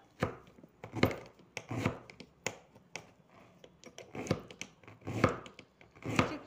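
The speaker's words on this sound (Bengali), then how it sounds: "বাঁধাকপিটাকে আমি কেটে নেব" A knife chops through cabbage on a board for a dry onion-free fry, giving a steady run of sharp, close thuds with short pauses between bursts, with no talk.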